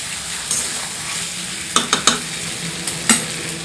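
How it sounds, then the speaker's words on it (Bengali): Chicken pieces sauté in a pan with a constant sizzle, and a spoon gives several sharp stirring clacks and scrapes close by. "দেখুন বন্ধুরা, মাংস খুব ভালোভাবে কষানো হচ্ছে।"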